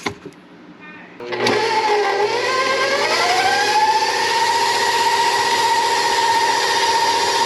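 An electric mixer beats buttery pecan sandies cookie dough: after a short quiet lead-in it kicks on loud and close, settling into a steady high motor whir that rises slightly in pitch before holding constant.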